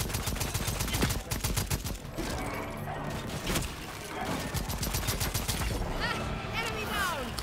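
Pistol gunfire in the co-op shooter Second Extinction: rapid bursts of loud shots, dense at the start and again later, mixed with game effects and creature cries, with people talking intermittently over the action.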